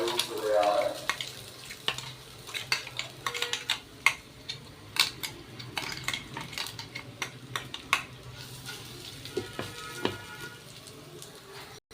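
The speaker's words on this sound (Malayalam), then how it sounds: "ഇനി ഇതിലേക്ക് നമ്മുടെ അരപ്പ് അരച്ചു വച്ചിരിക്കുന്ന സാധനം" Ground spice paste for a Kerala banana-stem curry frying in a pan, a soft steady sizzle under repeated sharp scrapes and clinks of a spatula against the metal pan, fairly quiet and close.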